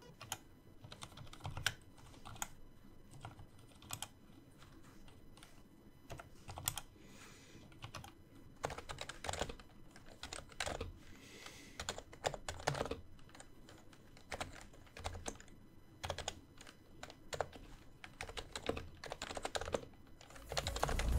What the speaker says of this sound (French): les touches faisaient déjà un bruit magnifique